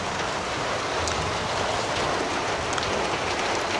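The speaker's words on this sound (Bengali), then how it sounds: "বৃষ্টি পড়ছে।" Steady rain falls outside a shop, a dense, even hiss of drops on surfaces with no pauses, close and fairly loud, with faint higher ticks of individual drops scattered through and no voices.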